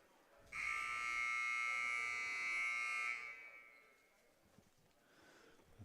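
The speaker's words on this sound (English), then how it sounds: "Buzzer sounds." A basketball scoreboard buzzer sounds at a JV boys' high school game in a school gym, one long loud steady electronic blast of about two and a half seconds, then cutting off into quiet gym ambience.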